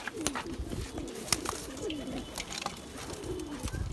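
Kalpare Bhure pigeons from Rampur keep up a run of low, rolling coos close by, layered over scratchy rustling and a few quick clicks and taps.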